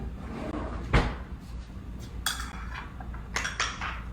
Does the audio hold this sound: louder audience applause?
no